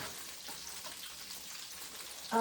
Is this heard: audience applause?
no